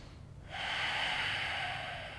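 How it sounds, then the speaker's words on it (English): A single long, steady inhalation taken during a yoga hip flow, a close, breathy rush of air beginning after a brief quiet moment and holding evenly for nearly two seconds. "Take another breath."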